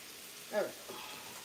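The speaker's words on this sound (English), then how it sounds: "while this is frying, let me just check on my rice" Pork chunks frying in lard give a soft, faint sizzle, with a brief stirring scrape in the middle and the crackle continuing quietly behind it.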